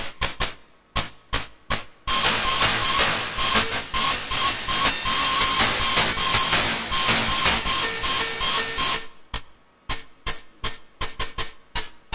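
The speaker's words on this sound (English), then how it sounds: "The splash cymbal has a thinner sizzle if adjusted that way" Synthesized splash cymbal from an SDS_VCO percussion firmware: a string of short, crisp hits, then a long sustained hissing wash, then another burst of rapid hits.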